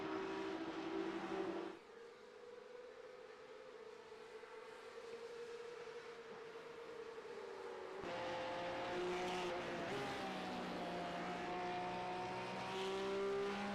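Race cars roar around the Miami International Autodrome, engine pitch rising and falling as they ride over curbs, a continuous loud drone with shifting harmonics and no talk.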